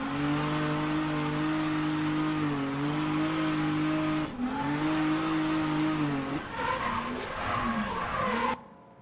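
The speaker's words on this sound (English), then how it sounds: "This is the M50 Turbo, dude. 4th gear." An M50 Turbo car engine pulls hard in fourth gear, a loud, steady turbocharged drone rising in pitch, dipping briefly at a shift-like break, then climbing again before cutting off abruptly near the end, with no voices.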